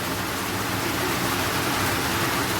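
Heavy rain pours steadily outside, a dense, even hiss with no breaks across the whole stretch, fairly loud and close.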